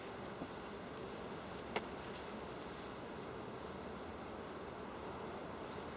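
A steady, low insect buzz hums throughout, like many bees droning nearby, with a faint breezy background and a single soft tap.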